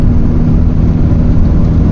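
A vintage VW T3/T25 van engine drones steadily at high revs in top gear while climbing a hill, a loud continuous hum with road and cabin rumble throughout.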